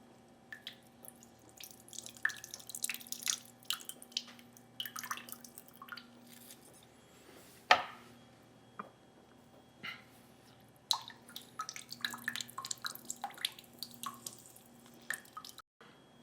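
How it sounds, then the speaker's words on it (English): A lemon is squeezed by hand over a bowl holding olive oil for a Greek chicken marinade, with scattered faint drips and small splashes of juice running intermittently, quiet and close. "we're going to squeeze, or juice, out of one lemon"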